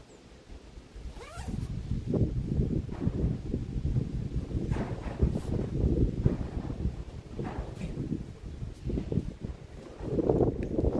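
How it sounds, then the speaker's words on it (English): Wind gusts buffet the microphone outside an old barn on a cold, breezy fall day in East Tennessee, a steady low rumble that swells and eases throughout without voices. "It is breezy and cold."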